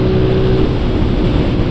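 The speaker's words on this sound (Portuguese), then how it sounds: "A broizinha acelerando" A Honda Bros motorcycle accelerates, a loud, close, rough engine drone with the pitch shifting as it revs, heard alone with wind-like noise.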